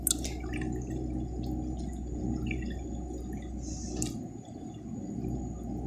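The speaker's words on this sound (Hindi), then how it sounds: "पानी उठा लिया है मोटर ने," Water from a handmade motor pump spills and splashes steadily into a pool, a continuous gushing stream with scattered drips and a low motor rumble underneath, with no talking.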